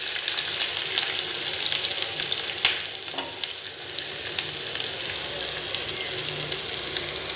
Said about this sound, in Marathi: कांदा चांगला लाल गुलाबी होईपर्यंत परतून घ्यायचा